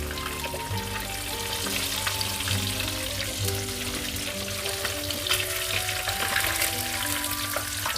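Katla fish pieces fry in hot oil until golden brown, giving a continuous dense sizzle that stays even throughout, with tonal background music running underneath and no talk.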